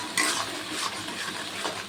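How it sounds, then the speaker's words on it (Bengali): Chicken pieces stirred in a hot pan with whole garam masala, chopped onion, salt and turmeric, giving a steady close sizzle with soft scraping of a spatula against the pan and no talk. "ভালো করে কষিয়ে নেব মাংসে"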